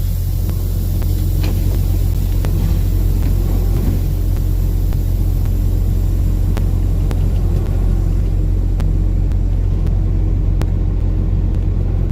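Tandem axles slide under a semi truck trailer, a loud heavy low rumble with idling engine drone and a few sharp metallic clicks and knocks scattered through, close by and without speech.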